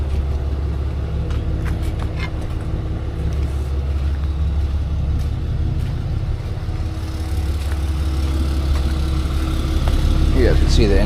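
A 1965 Chevy C10 pro street truck, built as a race truck, with a big block 454 engine idles with a loud, steady low rumble, close by, growing slightly louder near the end while people talk over it.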